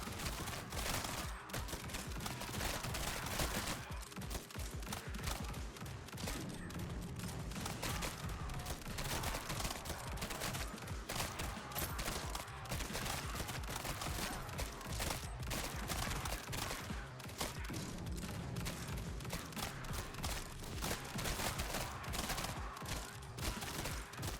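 Rapid, continuous gunfire from a roguelike video game with a fast fire rate and many bullets, a dense unbroken stream of shots lasting throughout, loud and with no talk over it.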